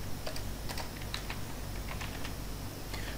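Continuous typing on a computer keyboard, a steady run of close, crisp keystrokes over a faint room hum, with no voices.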